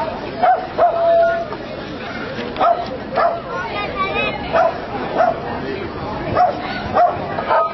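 A dog barks and yips in short repeated bursts at a red carpet event, heard close and clear under lively talk and crowd chatter.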